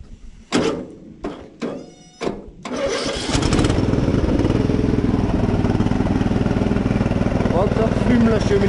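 Freshly fitted engine on a lawn tractor coughing through several short cranking attempts, then catching and settling into a loud, steady, slightly rough idle that runs on alone.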